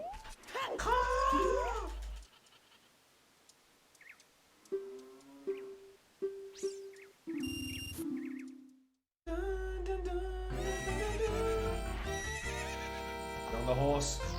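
A horse whinnies loudly in Zelda: Ocarina of Time, a rising-and-falling neigh near the start, followed by short game tones and a busy burst of game sounds and music later.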